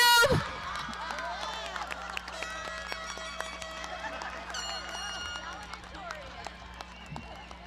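Graduation audience at a college commencement cheers and applauds, a broad, busy wash of clapping, whoops and shouting voices that bursts loudly at the start, then carries on at a steady level.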